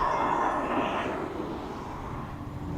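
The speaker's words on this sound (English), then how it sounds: "I think it's an EasyJet going into Belfast." An EasyJet Airbus A320 at East Midlands Airport gives off a steady jet engine roar that fades slightly over a few seconds, heard at a distance with faint background talk.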